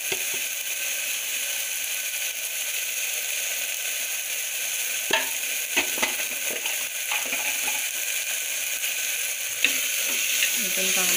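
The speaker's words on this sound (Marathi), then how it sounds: "पण चांगलं तेलात भाजून घ्यायचं।" Turmeric and red chili powder fry in hot oil for moong masala rice, giving a steady, close sizzle throughout with occasional sharp scrapes and clicks of stirring.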